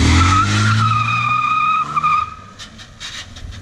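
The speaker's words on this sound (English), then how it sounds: "They'll do one wheel peel on dry pavement too." A Mopar car spins one rear tire in a one-wheel burnout, producing a loud, sustained high tire squeal over a roaring engine that fades into rougher skidding noise near the end.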